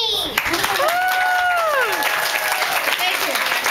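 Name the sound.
audience applause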